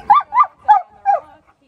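An 11-month-old wolfhound mix dog gives four short, close, high-pitched whining yips in quick succession against a quiet background.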